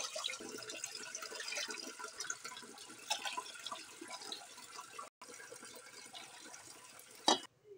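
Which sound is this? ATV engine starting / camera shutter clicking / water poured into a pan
water poured into a pan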